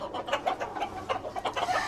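Roosters at a gamecock breeding farm cluck in quick, rapid runs, close and fairly loud, with no talk over them.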